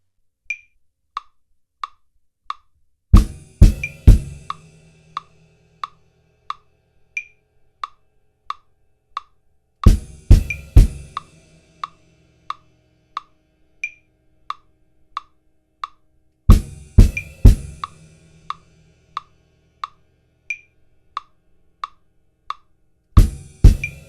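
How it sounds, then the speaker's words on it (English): A drum kit repeats a triplet pattern: steady ride cymbal pings with clustered snare hits and deep bass drum thumps every few seconds, loud and close. "we're going to play again the ride cymbal, snare drum, and bass drum on the trip of 6."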